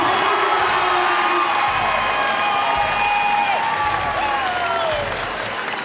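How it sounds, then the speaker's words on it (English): A boxing event crowd roars with sustained applause and cheering, loud and continuous throughout, with an announcer's voice briefly over the din. "listen to this crowd."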